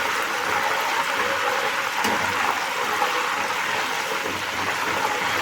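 Loud, steady hissing and bubbling as water meets hot oil with frying banana wafers, a continuous roaring sizzle with no voices.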